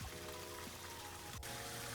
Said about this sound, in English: A lot of little waterfalls like these.